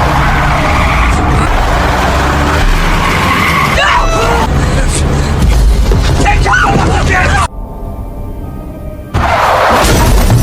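A bus in a film swerves and crashes, with screeching skids, loud crunching and shattering impacts, then a sudden drop into near silence before the din resumes, as people talk throughout.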